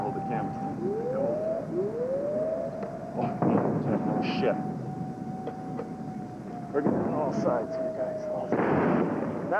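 A Scud missile strikes Riyadh in 1991 amid wailing air-raid sirens, with distant booming blasts and rumbling concussions rolling through a steady roar, and someone speaking over the scene.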